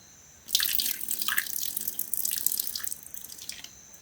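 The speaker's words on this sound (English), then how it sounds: "So we need to rinse it thoroughly and then discharge it." Water is rinsed through a small test container and poured out at a catfish pond, a close, steady splashing and trickling stream that starts abruptly and runs for several seconds.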